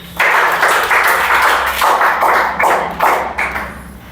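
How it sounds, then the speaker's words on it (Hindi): A crowd in a police recruitment exam coaching class claps steadily and loudly for about four seconds, the applause swelling and dipping slightly with no voices over it. "ताली बजाओ जी।"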